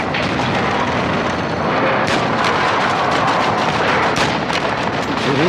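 Dense, sustained battle noise from the video game Call of Duty Modern Warfare 2, with heavy booming fire and crackling shots blending into a loud, continuous wall of sound.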